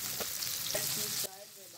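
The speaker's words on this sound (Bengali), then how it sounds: "আলুগুলো আমি এর মধ্যে ভেজে নেব।" New potatoes fry in oil in a wok, giving a loud, close, dense sizzle that suddenly drops to a quieter bubbling hiss near the end.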